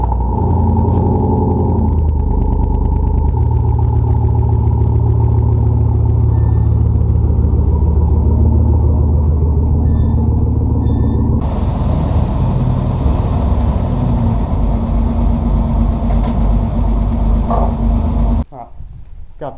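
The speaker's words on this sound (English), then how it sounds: "Go ahead and do a little cold start." A Jeep engine cold-starts and settles into a steady, loud idle, its deep rumble continuing throughout. The tone shifts partway through, and the sound cuts off abruptly near the end.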